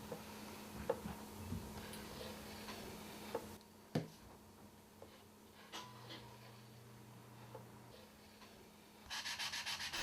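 Sabi lacquer paste is spread over the flat surfaces of urushi lacquerware in a quiet workshop, making soft, faint rubbing and scraping strokes with occasional light taps and a low steady hum.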